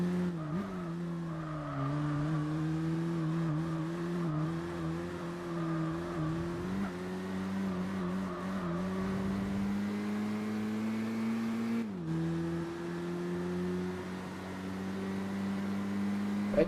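Racing car engines in Gran Turismo 4 drone steadily, with revs rising and falling, gear changes and faint tyre noise over a long stretch, without talk.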